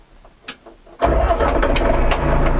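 A few faint clicks, then a new DTZ 504 tractor engine cranks and catches at once, settling into a loud, steady running rumble.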